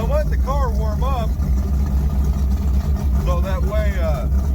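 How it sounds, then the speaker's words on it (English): Vintage street car engine idling steadily as it warms up after a new distributor install, a constant low rumble close by with someone talking over it. "So I let the car warm up"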